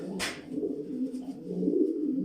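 A long-distance racing pigeon coos softly and repeatedly in a loft, low throaty rolling calls close by, with a brief rustle or flap near the start.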